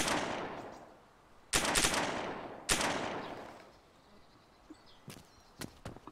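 Gunfire in the survival game DayZ: three sharp, loud shots spaced a second or so apart, each trailing off in a long echo, then a quick cluster of fainter cracks.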